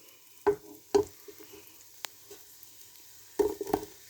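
Boiled pasta goes into a pan of softened onions for a pasta broccoli bake, giving a few soft clattering tosses and scrapes over a faint, quiet sizzle.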